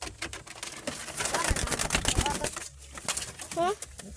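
Pigeons in a loft or yard, with fluttering and scuffling movement, a few soft coos and brief calls near the end, amid background noise and indistinct voices.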